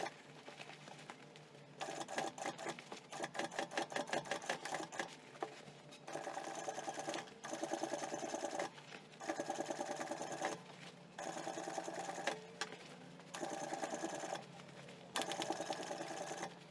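A sewing machine stitches a necessaire bag in several bursts of rapid, even running, separated by short pauses, close and fairly loud with no talking.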